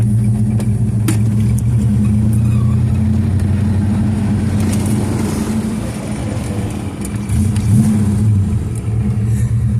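A 1969 Plymouth Barracuda convertible with a 318 V8, four-speed manual and dual exhaust drives off, its deep rumbling exhaust loud and close and swelling as it revs, with no talking.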